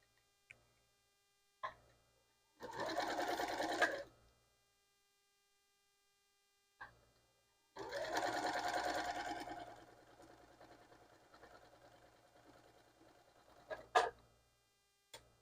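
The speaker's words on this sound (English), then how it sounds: "switch over to the sewing machine, and here we go" A sewing machine stitches quilt pieces in two short whirring bursts separated by a quiet pause. Faint clicks and a low hum sit between them, and a quieter softer run trails off after the second burst.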